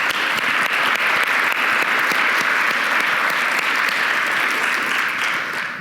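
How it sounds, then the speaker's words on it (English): Sustained, dense applause from a conference audience for the organizers of State of Reform, a loud, even wash of many hands clapping together that holds steady for several seconds in a large hall. "if we could all give a round of applause to the organizers of State of Reform for a job done"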